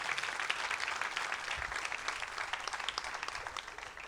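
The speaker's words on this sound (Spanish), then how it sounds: "Dele un fuerte aplauso a Dios en esta noche." A church congregation at an evening youth service claps loudly and steadily, dense applause filling the hall without a break for about four seconds.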